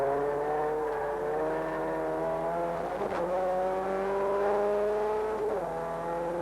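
Production race cars on a 1988 championship circuit, engines droning steadily and rising through the revs with brief shifts as they brake and accelerate, heard under continuous loud engine noise and no audible talk.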